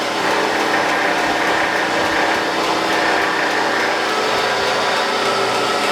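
A surface grinder, warmed up with its magnetic chuck switched on, runs with a loud, steady broadband whir that holds constant for the whole stretch, with no voices over it.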